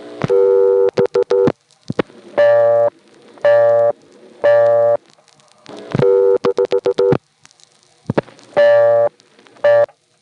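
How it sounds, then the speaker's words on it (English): Busy signal on an NX1 crossbar payphone line from 1976, heard after a short burst of clicks from flashed digits: steady repeating on-off tone bursts, loud and close, with more switch clicks midway and no talk. "It cuts battery for a moment and then goes to a busy signal."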